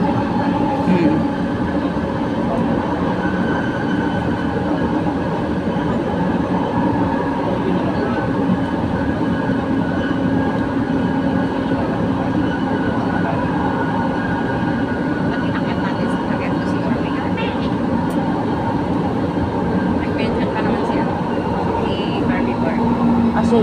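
A train ride in Manila: steady rumbling and rattling of rail cars fills the cabin throughout, with faint clicks and people talking in the background.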